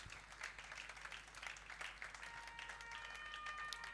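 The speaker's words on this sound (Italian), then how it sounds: "E un applauso a Daniele e Augusto alla regia là dietro" An audience applauds at a science event at Spazio Pira, giving a faint, steady round of clapping from many people that lasts throughout.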